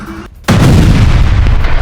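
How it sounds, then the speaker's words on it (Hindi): A missile strike in the industrial area of Kiryat Shmona, a sudden loud close blast after a short silence, followed by a sustained heavy rumbling roar with rattling debris. "किरियत शमोना के औद्योगिक क्षेत्र में ये मिसाइल गिरी है"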